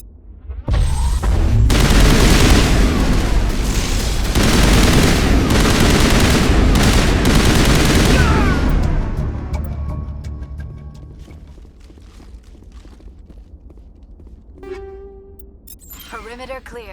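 A Mass Effect firefight erupts in a loud, dense fusillade of rapid gunfire and blasts for several seconds, then thins to scattered shots and clatter that fade into near quiet.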